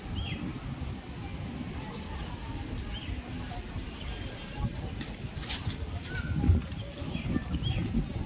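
Pigeons coo softly, with a brief flutter of wings, at Gopnath Mahadev temple beside the sea, their calls faint and scattered over a constant wash of wind and surf.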